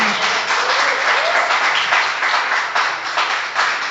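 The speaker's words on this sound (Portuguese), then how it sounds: "Dá um aplauso ao Senhor Jesus aí." A church congregation claps for Jesus during a worship service, a loud dense burst of applause sustained evenly for several seconds without talk.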